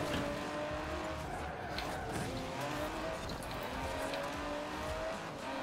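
A 2019 Aston Martin DBS in Forza Horizon 4 accelerates hard through short gears, a steady loud engine drone with rising revs and tire noise throughout.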